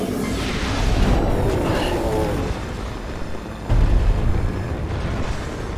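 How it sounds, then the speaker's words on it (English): A super missile blasts in Metroid Prime Remastered, heavy rumbling booms and crackling bursts rolling loudly, then a second deep impact thump that lingers as a low roar. "We're gonna make this fucker eat a super missile once I can get the lock."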